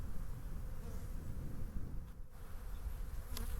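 Honeybees humming in an opened hive, a dense continuous buzz close by with a few individual bees droning past.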